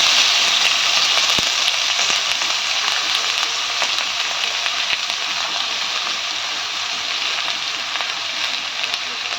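Cut potatoes frying in hot oil in a wok: a dense, continuous hissing sizzle, loud and close, with small crackles and pops scattered throughout and no talking.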